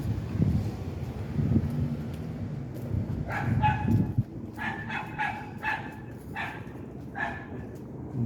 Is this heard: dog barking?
yes